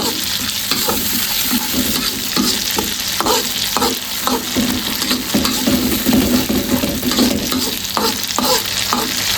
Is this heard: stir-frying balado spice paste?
yes